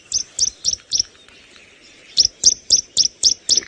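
A small brown bird with a cocked tail calls on a sunrise safari drive: four sharp, bright chirps in quick rhythm, a brief pause, then six more, loud and close with no talk.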